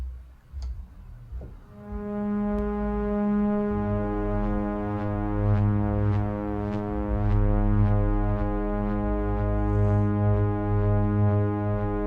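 A Prophet 6 synthesizer holds a thick, sustained pad with oscillator 2 routed to the high-pass filter. The chord is steady and buzzy, with faint ticking on top, after a brief quieter start.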